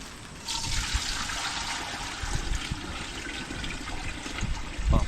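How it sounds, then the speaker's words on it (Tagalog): Spring water is poured steadily into a cooking pot, a continuous rushing splash close by that runs for several seconds without pause. "Naglalagay na po tayo ng tubig mga kautol."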